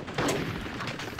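Sniper rifle fire in the video game Conker's Bad Fur Day, a dense burst of gunshot cracks amid a busy, continuous battle din, fairly loud throughout.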